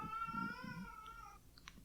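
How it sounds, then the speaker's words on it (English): A cat gives one drawn-out, tonal meow that is fairly clear and close, then fades into a brief faint squeak or chirp near the end. "Calm down, cat."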